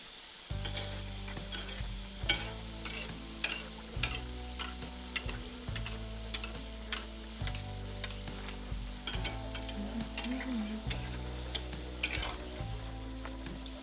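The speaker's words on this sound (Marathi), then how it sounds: "गुलगुले आपल्याला स्लो फ्लेमवरती असे हळवार असे तळून घ्यायचे आहेत" Gulgule, sweet flour fritters, fry slowly in oil over a low flame. A steady bubbling sizzle runs throughout, dotted with rapid ticking pops and occasional soft clinks, with no voices.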